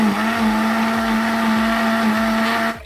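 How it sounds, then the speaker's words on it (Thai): An electric multipurpose blender whirs steadily, grinding a few stalks of old cassia (khi lek) leaves into a fine mash, a loud continuous motor drone with a rhythmic churning pulse, running alone before cutting off abruptly near the end. "แล้วเรานำมาทำการปั่นด้วยเครื่องปั่นเอกประสงค์"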